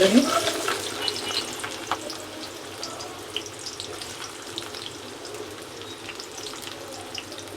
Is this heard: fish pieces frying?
yes